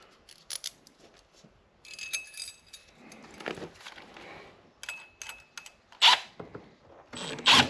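Metal washers clink and jangle while underfloor heating is being installed, with scattered bright metallic taps and rattles coming in irregular bursts close by, the loudest clinks near the end.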